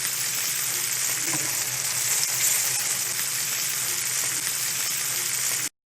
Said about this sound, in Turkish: Bakın kızarmaya başladı balıklarımız.